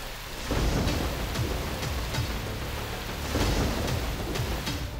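A heavy cloudburst pours down in Islamabad, with dense rain hammering surfaces continuously and loud rumbles of thunder rolling through, up close and with no voices.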